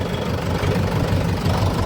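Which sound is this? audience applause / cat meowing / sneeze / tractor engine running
tractor engine running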